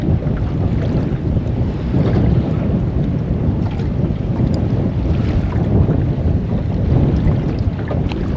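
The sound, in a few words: wind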